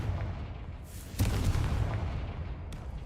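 A Confringo fire spell goes off in Hogwarts Legacy, a single loud explosive boom that bursts out at about one second over steady game ambience and then fades into a rumbling tail.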